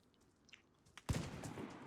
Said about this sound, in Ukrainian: Стріляють